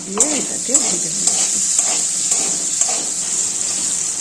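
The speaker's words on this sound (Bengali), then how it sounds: "আলুটা একটু ভেজে নেব" A loud, steady sizzle of potatoes frying with turmeric and salt in a pan fills the clip, with occasional stirring scrapes and a brief murmur of a voice early on.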